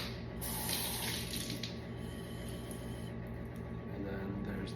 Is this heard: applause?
no